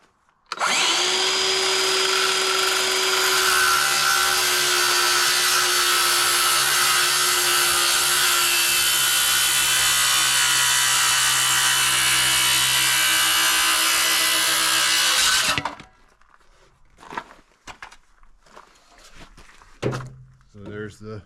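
Power saw set to a 22.5 degree bevel rips through a board, a loud sustained whine with steady pitch lasting about fifteen seconds before cutting off, followed by faint knocks and handling noise.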